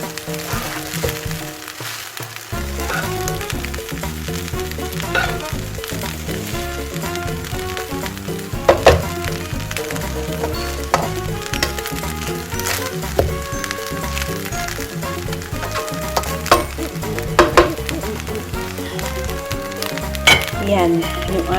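Fried rice frying in a pan, a continuous crackling sizzle with scattered clinks and scrapes of stirring, steady and close throughout.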